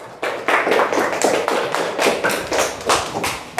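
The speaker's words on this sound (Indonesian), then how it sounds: "beri tepuk tangan kelompok 2" Classroom applause for a student group, a small group of students clapping by hand in uneven rhythmic bursts with thuds and taps, close and fairly loud.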